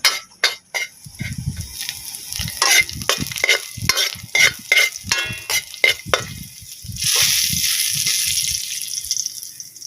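Garlic and ginger sauté in a pan, with oil sizzling and a utensil repeatedly scraping and clinking against the pan in uneven strokes, close up, the frying swelling louder near the end.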